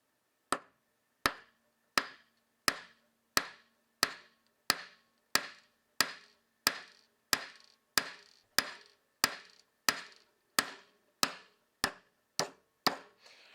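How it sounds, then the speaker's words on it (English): Brass mallet striking a heart-shaped disc cutter punch, twenty sharp metallic blows at a steady pace about two thirds of a second apart, each ringing briefly before the next, with no talk. "I'm gonna go ahead and hammer this."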